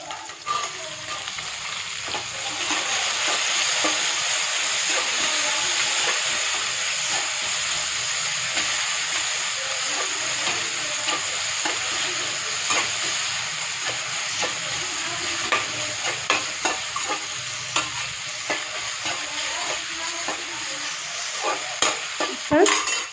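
Tomatoes sautéing and being stirred in a pan for chow chow sambar, giving a continuous loud hissing sizzle for over twenty seconds with faint stirring clicks, close up and without speech.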